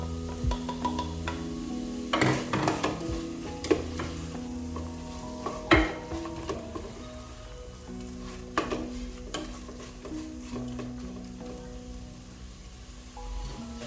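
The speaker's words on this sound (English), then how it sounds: "I'll go in with my beef together with its juices" Beef and its juices tipped into a pot of broken-down cooking tomatoes for a beef stew, giving a steady sizzle and bubbling with a few sharp stirring scrapes and clinks of a spoon against the pot, close and moderately quiet.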